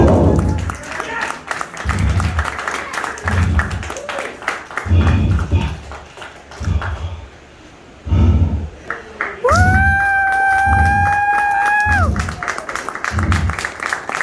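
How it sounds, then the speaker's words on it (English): Audience applause after a mentalism act at a first stage show, steady clapping rising and dipping over talk and cheers, then a loud sustained whistle-like tone sweeping near the end. "Everyone give Scott a round of applause as he makes his way back to his seat"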